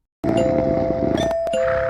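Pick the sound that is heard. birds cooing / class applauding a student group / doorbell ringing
doorbell ringing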